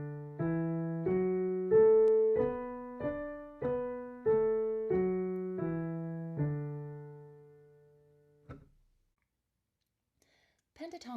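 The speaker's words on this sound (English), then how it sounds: "our D pentatonic scale sounds like this." A D pentatonic scale rises and falls in even, separate sustained tones on a keyboard-like instrument, heard alone and clearly, followed by a short pause and a faint voice at the end.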